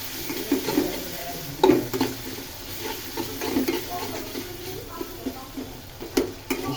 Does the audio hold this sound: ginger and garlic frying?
yes